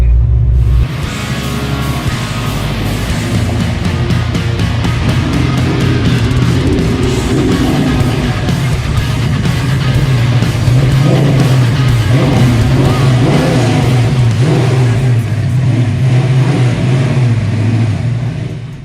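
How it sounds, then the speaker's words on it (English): A Ford Fox body car with a 387 stroker engine and an old muffler revs hard during a burnout, a loud sustained rumbling roar close by. The engine pitch rises and falls for the full stretch, then cuts off at the end. "Got some noise to make, don't we? Cousin Paul ain't no stranger to some burnouts."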